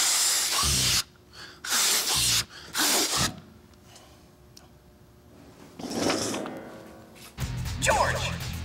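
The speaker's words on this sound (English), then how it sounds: "The monster truck of balloon-powered cars!" Air hisses out of the balloon on a large balloon-powered toy monster truck, heard as loud spurts of rushing air with quieter gaps and a voice talking over parts of it.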